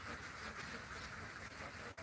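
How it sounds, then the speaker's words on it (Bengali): A big duck farm with about four thousand ducks filing toward their spot gives off a dense, steady wash of quacking and rustling, with no gaps and no one talking. "তার নির্ধারিত জায়গায় আসছে চলে হাঁসগুলো"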